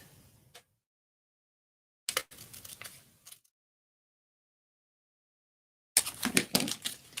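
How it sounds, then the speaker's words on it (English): Scissors snip through a folded strip of paper in two short bursts of close, crisp cutting separated by silence, the second burst louder and busier. "Grab our scissors and cut it off."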